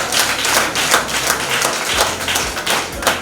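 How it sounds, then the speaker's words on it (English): Applause for parish staff at a public government event on a roofing initiative: a steady, dense crowd clapping fills the space throughout, with no voices standing out. "Give them a round of applause, please."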